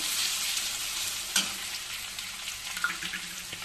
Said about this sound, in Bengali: এবার এখানে আলু আর পেঁয়াজ দিয়ে তো আলু পেঁয়াজ ভেজে নিচ্ছি।